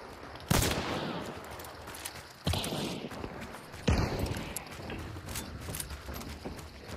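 Three sharp gunshots in a western-style showdown, spaced about 1.5 seconds apart, each followed by a rumbling echo over a busy background.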